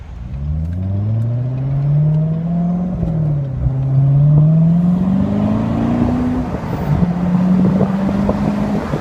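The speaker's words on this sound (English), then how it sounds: "I have rev match engaged, so that's why you're hearing the throttle blips." A Chevrolet Corvette C7 with its top down blips the throttle under automatic rev matching. Several rising and falling engine sweeps sound close and loud over a bed of wind rush.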